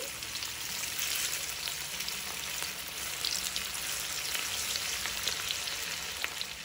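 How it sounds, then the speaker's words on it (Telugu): Onion vadas deep frying in hot oil over a medium flame, a dense continuous bubbling sizzle, close and even, with no voices. "ఆయిల్ బాగా వేడయ్యాక మనం తయారు చేసుకునే ఈ వడల్ని దీనిలో వేసుకోవాలి. మీడియం ఫ్లేమ్లో పెట్టుకుని వేయించుకోవాలి."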